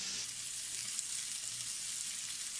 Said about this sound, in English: You're going to grab some butter, and you're going to throw it in the pan.